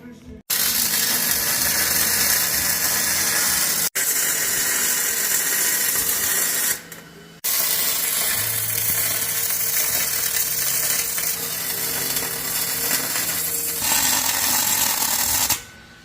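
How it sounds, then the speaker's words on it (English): Welding a coilover bracket onto a 1967 Mustang 4-link setup in a shop: a steady, loud crackling buzz holds for long stretches, broken by a few brief pauses between welds. "Time to weld it up."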